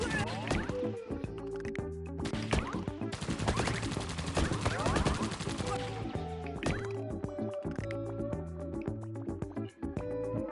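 Rapid shots fire in Pang Adventures, an arcade bubble-popping game, as dense bursts of repeated pops and zaps over bouncy game music, close and fairly loud.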